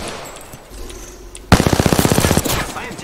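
Rapid machine-gun fire in a multiplayer shooter video game erupts suddenly after quieter background noise, a fast, loud run of close shots lasting about a second, followed by lingering noise.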